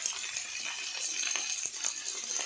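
Garlic, onion, eggplant and sweet potato frying in hot fish oil, a steady close sizzle with faint stirring clinks, no talking.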